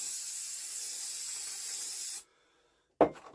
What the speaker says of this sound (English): Give her a squirt of brake clean.